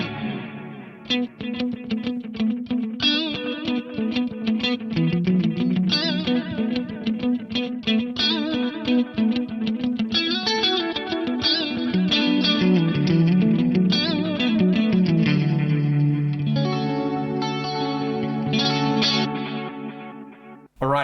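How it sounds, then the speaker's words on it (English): A stereo delay from an Eclipse effects unit repeats a continuous musical passage, with echoing notes trailing steadily across the whole stretch at a strong, even level and no talking. "so that's doing a lovely stereo delay"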